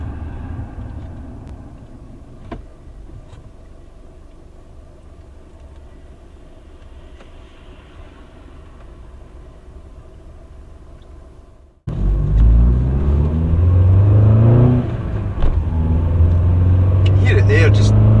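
A poorly running 1.6 FSI car engine runs low and muffled for a while, grunting below 3000 rpm, then suddenly revs up loud and close, its pitch climbing and wavering.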